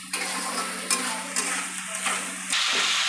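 Vegetables with turmeric are stirred and sautéed in a pan, a steady close sizzle broken by several scraping stirs of the spatula.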